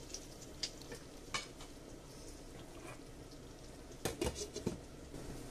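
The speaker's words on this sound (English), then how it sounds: "So that's the first stir." A spoon stirs thick bolognese tomato sauce in a pot with quiet scraping and gentle bubbling, faint and close, with a few sharper utensil knocks toward the end.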